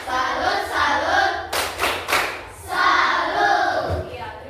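A classroom of students performs the tepuk salut clapping game, rhythmic group hand claps with bursts of sharp synchronized claps and chanting voices in a lively, close room.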